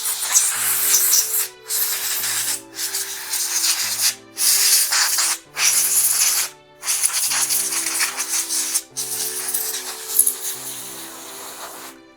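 Nintendo 64 console parts being cleaned, with repeated rubbing and scrubbing strokes in close bursts separated by short pauses, plus faint low tonal hum underneath; no talking.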